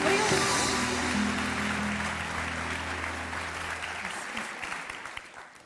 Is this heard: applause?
yes